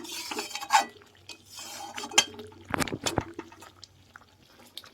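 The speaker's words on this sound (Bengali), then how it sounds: "গ্যাস অফ করে দিয়েছি কিন্তু বন্ধুরা দেখুন তাও আচার কিছু ফুটছে" Sweet, sour and spicy mango pickle with jaggery still simmers in a pan after the gas is switched off, while a spoon stirs and scrapes it with sharp clinks and soft squishy splutters.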